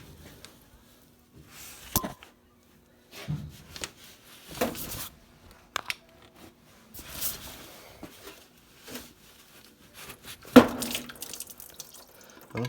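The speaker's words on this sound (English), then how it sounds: "now we got some of the coolant draining into the pan" Coolant from an LS turbo engine drains into a pan, quiet intermittent trickles and splashes with dripping between bursts, close but faint, against near silence.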